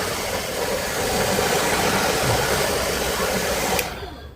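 A hair dryer blows hot air steadily onto the back cover of a Huawei Y9 2019 phone during a screen repair, a loud continuous whoosh that cuts off near the end.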